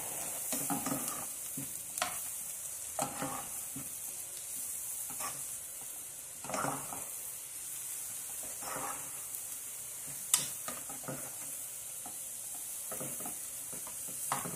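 Leeks sautéing in a pan for a pasta dish, a spoon stirring in scattered scrapes over a soft, continuous sizzle with no talk.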